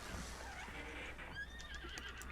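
A horse in The Legend of Zelda: Breath of the Wild gives a short, fairly faint whinny with a few hoof clops against quiet game background, no talking.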